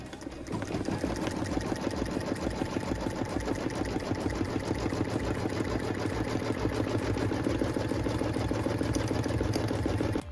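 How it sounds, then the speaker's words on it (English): An embroidery machine stitches a fabric placement line for a pieced wall hanging, its rapid needle strokes making a steady, loud mechanical whir without pause for the whole stretch. "We then return the hoop to the machine to stitch our fabric placement line."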